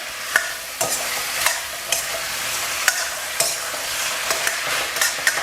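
Pork ribs being stir-fried with curry paste, oyster sauce and light soy sauce, with repeated sharp utensil scrapes and clanks against the pan over a steady sizzle, close up.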